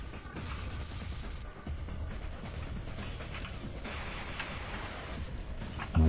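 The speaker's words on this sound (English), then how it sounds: "I'm hearing shooting." Gunfire in the game Gun Metal crackles as a steady, dense rattle of shots mixed with crashing impacts, fairly quiet and continuous throughout, ending with a sudden louder burst.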